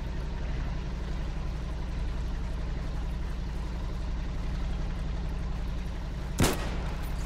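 A single sharp gunshot cracks out near the end in the war game Foxhole, standing alone over a steady, low vehicle engine rumble that runs throughout.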